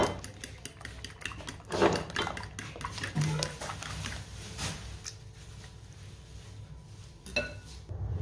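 Eggs whisked with a pinch of black pepper and salt in a bowl, rapid rhythmic clinking of utensil against the bowl, louder at first and then easing off.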